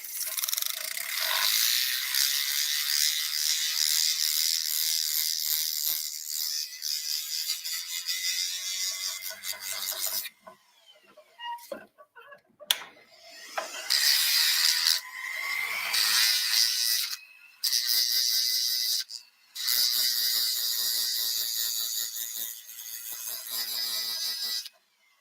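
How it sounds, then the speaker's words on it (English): A flex shaft tool sands and polishes a metal hammerhead with a steady high-pitched whirring grind, broken by short pauses and restarts as the tool lifts off and touches the metal again. "I am going to use my flex shaft to clean this up."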